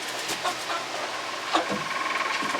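Chickens shuffle about on a new roost with a few soft clucks and scattered flaps and scratches against a steady background rumble, and no one speaks.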